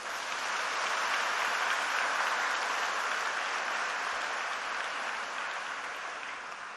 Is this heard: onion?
no